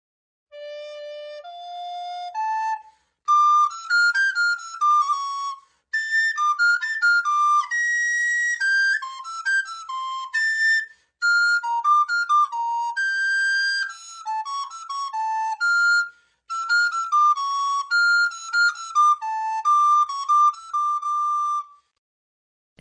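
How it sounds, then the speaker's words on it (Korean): A pipe plays a bright, whistling melody in a fairy tale audiobook, clear, distinct notes in short phrases with brief pauses between them and no voices. "다음 날 모두가 잠들어 있는 이른 아침, 마을 한복판에서 피리 소리가 들려왔어요."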